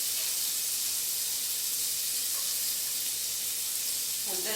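Egg omelette mixture spread thinly in a hot pan, giving a steady, close, hissing sizzle throughout, with a brief clink near the end.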